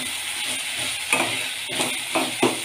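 Vegetables sautéing with salt in a pan for rava kichadi, a steady soft sizzle with a few sharp spoon scrapes and taps against the pan.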